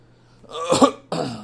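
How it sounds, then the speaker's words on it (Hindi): A single rough cough or throat clear up close, a short raspy burst followed by a second brief hack. "खांसी तो हो रही है"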